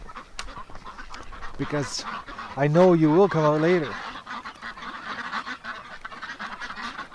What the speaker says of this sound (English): Okay, ducks. You're going inside.